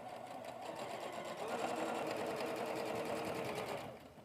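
A sewing machine runs steadily, stitching quarter-inch seams on quilt units in a sewing room; its rapid, even whir is close and fairly quiet, speeds up briefly, then slows and stops near the end.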